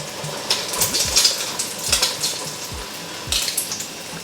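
An egg roll mixture of raw egg layers sizzles and fries steadily in a frying pan, with repeated metallic scrapes and clinks of a utensil against the pan, close up and without talk.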